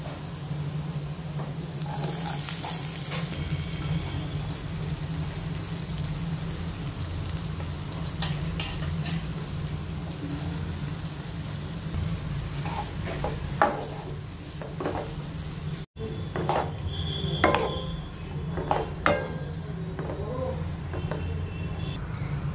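Garlic and chopped onion frying in a pan, a steady sizzle with intermittent scraping stir strokes, close and continuous throughout with a brief gap near the end.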